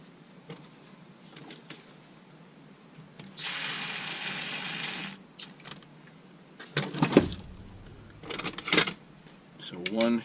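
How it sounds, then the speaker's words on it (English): Short screws being driven into the AV mounts of a Husqvarna 181 chainsaw, a close power driver whirring in a brief burst, followed by clicks and handling clatter of parts. "Now we can attach all the screws for the AV mounts."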